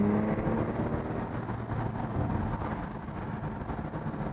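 Aston Martin DBS with a naturally aspirated engine, a steady deep drone from inside the car while driving, with a subtle rise in revs and road noise underneath, moderately loud and continuous.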